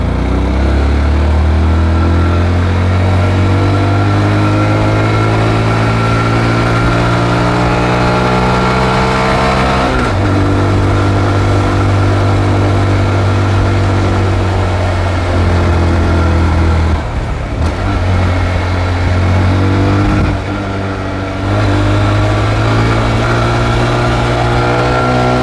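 A Honda Grom motorcycle engine revs and shifts through gears on a twisty mountain road in Thailand, loud and close throughout with steady harmonic drone, dipping briefly between gear changes before climbing again.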